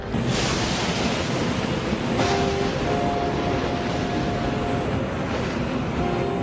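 A cartoon aircraft flies through a cyclone, its steady engine drone mixed with a rushing, stormy wind roar that holds constant and loud throughout.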